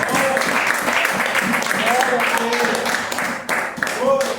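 A church congregation claps loudly and continuously during a worship service while voices call out and speak over the steady applause.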